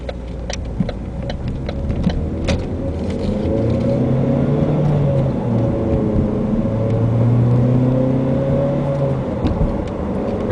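A 2012 Ford Focus engine idles, then revs up to about 4,000 RPM in long rising and falling sweeps, loud and close, with a steady rumble underneath and light ticking.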